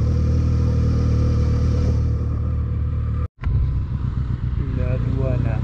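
A motorcycle ridden over cobblestone streets toward Rivera, a loud, close, steady engine drone with rough road rumble and a short dropout partway through, and someone talking over the engine near the end.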